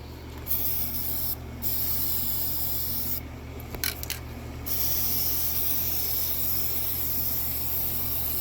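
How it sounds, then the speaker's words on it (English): Spray paint going onto a night stand for another coat: a continuous close aerosol hiss, briefly interrupted by several short gaps and a small click, steady and fairly loud throughout with no talking. "I already sprayed this one time too off camera, but I forgot to record it, so I'm just doing another coat on camera for you."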